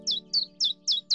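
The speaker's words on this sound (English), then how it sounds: "Do you see that little brown finch?" A little brown finch chirps in a meadow, five short bright tweets in an even rhythm, close and clear over a faint steady hum.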